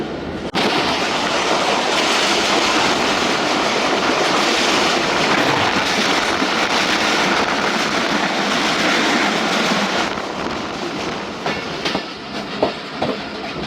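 The 47Up Rehman Baba passenger train roars past at night at about 101 km/h: a loud, continuous rush of wheels and carriages with rhythmic clacking that eases slightly toward the end.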